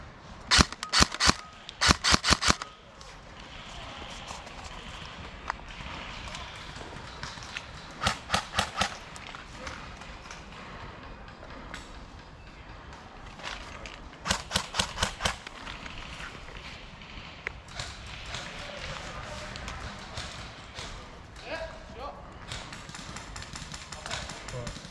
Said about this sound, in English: Careful, I can hear shooting, people shooting down from there.